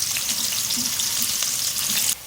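Sliced onion frying in a pan for a carrot and fenugreek vegetable dish, a dense continuous sizzle with bright crackle, loud and steady, cutting off abruptly near the end.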